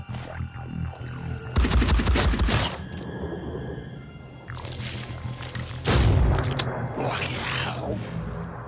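Gunfire in the video game Phoenix Point: two heavy, booming bursts of shots a few seconds apart, loud and close, over a low background hum.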